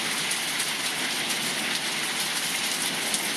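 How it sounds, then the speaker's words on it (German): Heavy rain falls in a coastal thunderstorm, an even, dense roaring hiss of downpour that stays loud and unbroken, with no voices. "Starkregen"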